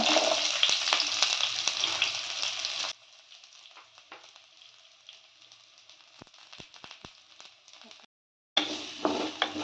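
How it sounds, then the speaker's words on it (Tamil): Big onions sizzling and frying in a little oil in a kadai, a steady loud hiss that drops to a quieter crackle partway through, with a brief silence before the full sizzle returns; no talking. "இப்போ நம்ம ஒரு கடாயை வச்சு அதில் கொஞ்சமாக எண்ணெய் ஊற்றி இந்த பெரிய வெங்காயத்தை உள்ள போட்டுக்கலாம்"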